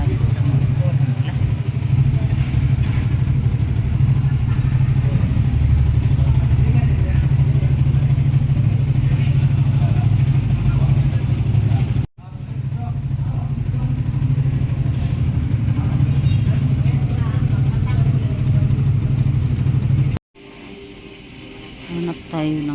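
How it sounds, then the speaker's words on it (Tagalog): Motorcycle taxi engine running steadily and close, a continuous mid-low drone with clatter, briefly cutting out twice, with voices talking over it. "Nakasakay na naman tayo sa motor nila."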